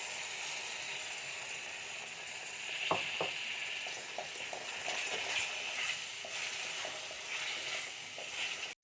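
Homemade yogurt hits a pan of frying chicken masala, giving a steady close sizzle with a couple of sharp crackles partway through and no voices.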